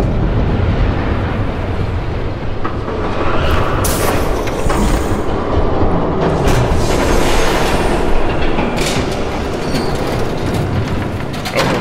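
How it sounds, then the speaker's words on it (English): A train approaches in the Batman: The Telltale Series video game, with a loud, steady rumble and rattling clatter of wheels that fills the whole stretch without pause. No one speaks. "There's a train coming."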